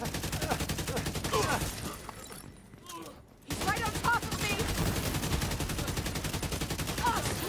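Sustained automatic gunfire from The Division, a dense rapid rattle that breaks off briefly for about a second, then resumes just as loud and steady.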